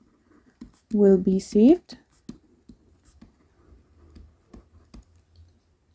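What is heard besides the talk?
writing the answer down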